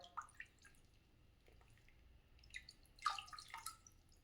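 Water drips from cannabis buds freshly rinsed after a hydrogen peroxide wash, as a few faint, separate droplet ticks and small splashes over a quiet low background.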